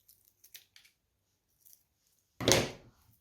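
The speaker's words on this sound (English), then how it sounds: "Let's trim it" Scissors trim a paper loop for a simple bird and cat craft. A few faint snips and handling sounds come first, then one loud, close cut that stands alone.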